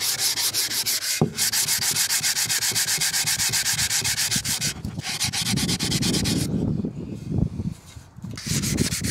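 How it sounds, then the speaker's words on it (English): Sandpaper rubs back and forth on a vintage .22 rifle's wooden stock in steady, close strokes with brief pauses and a few knocks. "I'm gonna go ahead and get it sanded down, get it all sanded smooth"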